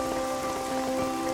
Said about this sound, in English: Another dose of invigorating Welsh rain.